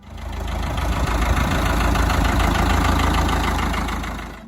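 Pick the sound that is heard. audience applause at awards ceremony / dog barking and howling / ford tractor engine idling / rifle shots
ford tractor engine idling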